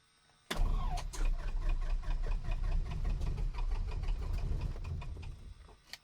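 A cheap small airplane's propeller engine cranks with a sudden loud start, then chugs and sputters unevenly for several seconds before fading, with no talk.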